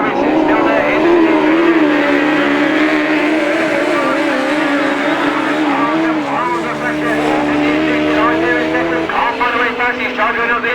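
Autograss race cars roaring around a dirt track at St Neots, a dense, loud wall of revving engines with overlapping exhaust notes and shifting pitch, heard close and continuous while a commentator talks over it.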